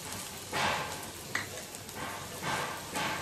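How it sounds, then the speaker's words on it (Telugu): Grated raw mango fries in a pan with a soft sizzle that swells in bursts as a spoon stirs it, with one light clink from the utensil. "2 నిమిషాలు కలుపుతూ వేయించుకోవాలి"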